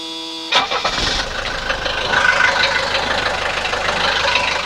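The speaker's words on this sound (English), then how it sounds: "the next thing to do is just start the car" A 1983 Mercedes 240D diesel engine cranks and catches after a brief silence, then settles into a steady, clattering idle that runs on loudly and close up.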